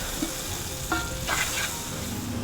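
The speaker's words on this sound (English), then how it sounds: "Onions are sauteed with the masala" Onions sizzle in a pan with masala of black pepper and red chili, a constant close frying hiss broken by a couple of soft stirring scrapes.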